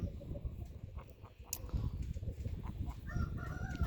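A barnyard flock of mixed chickens clucks and murmurs softly at a distance, with faint scattered calls over low outdoor background noise.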